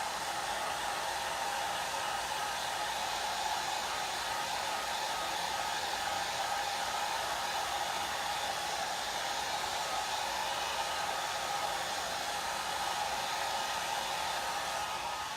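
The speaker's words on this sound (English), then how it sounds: "And I'll blow this real quick just to make sure the silk screen dries." A hair dryer on its cool setting blows a steady, unbroken whoosh at close range for about fifteen seconds, drying chalk paste on a silk screen.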